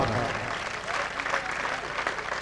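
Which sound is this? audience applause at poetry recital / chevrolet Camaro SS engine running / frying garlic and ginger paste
audience applause at poetry recital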